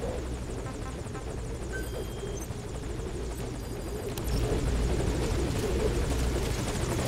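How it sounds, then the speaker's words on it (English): A helicopter in Metal Gear Solid V: Ground Zeroes drones steadily as if hovering close overhead, a continuous rotor rumble that grows louder partway through, with no voices. "This is a dumbass guard to not hear a helicopter. He's right over here."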